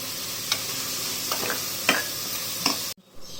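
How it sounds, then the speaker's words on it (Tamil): Vegetable pulao masala being stirred in a pan, with a steady sizzle and several scraping strokes of the spoon at a close, moderate level before a sudden cut to quiet. "ஒரு நிமிஷம் கிளறி விட்டால் போதும்"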